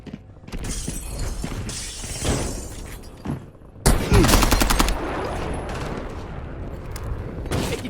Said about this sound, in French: j'ai su des tirs.